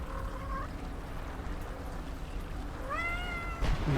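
Two distinct cat meows, one at the start and a rising one near the end, over a steady low background hum, followed by a brief thump.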